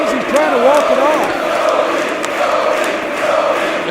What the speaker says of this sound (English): The crowd getting behind Rhodes.